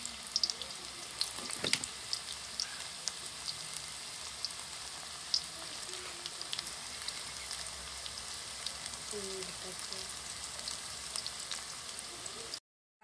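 Onion pakoras frying in hot oil, with a steady faint crackle and sizzle and scattered small pops throughout. No one speaks.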